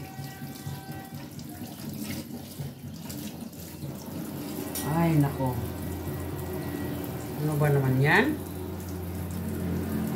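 A kitchen tap running steadily while someone cooks, a constant watery hiss under brief spoken exclamations from a woman nearby.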